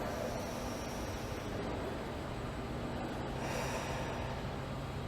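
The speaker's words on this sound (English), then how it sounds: "deep breath." One long, deep breath draws through as a steady, close airy rush lasting several seconds, with no talk.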